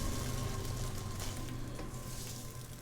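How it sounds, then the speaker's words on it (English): Food sizzles in a pan with a steady, dense hiss and crackle, close by and continuous without any talking. "I love that sizzle."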